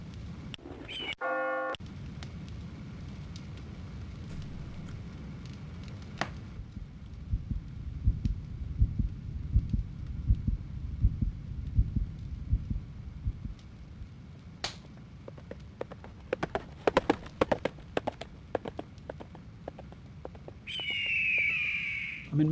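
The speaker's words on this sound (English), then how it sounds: "the 4 one sounded like fire, heartbeat, horse, and then bird" A short played clip said to hold a heartbeat, a horse and a bird: a low steady pulsing murmur runs through it, followed by scattered sharp clicks and chirps and a squawking call at the end.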